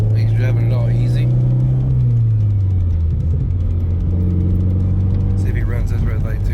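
A turbocharged FRS car drives on a city street, its engine a loud close drone whose pitch slides down as it eases off, with road rumble and voices talking over it.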